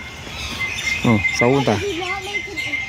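A crow at a wildlife park in Sydney, Australia gives a few harsh, rasping caws close by, with people talking nearby.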